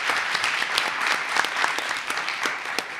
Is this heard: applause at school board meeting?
yes